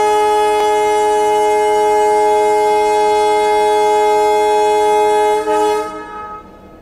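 A long, loud EMD diesel locomotive horn on the Dhule–Mumbai line holds steady for about five seconds, then fades and cuts off, rich and sustained with no talk.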